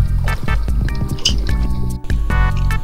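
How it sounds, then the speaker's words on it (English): Water blocks being placed in a video game make wet dripping, squishy splashes that repeat in quick, uneven succession, loud and close, with brief gaps between placements. "This is you just placing water trying to trick me into thinking someone did it."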